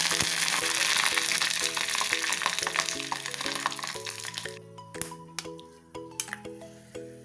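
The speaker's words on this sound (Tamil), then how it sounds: "இனி வந்து கடுகு தாளிச்சிடலாம் எண்ணெய் ஊற்றிட்டு கொஞ்சம் கருவேப்பிலை பத்தல் மிளகாய்" Mustard seeds tempering in hot oil with curry leaves and dried chilies, a loud crackling sizzle that fades toward the end while light clinks of a utensil against the pan come through.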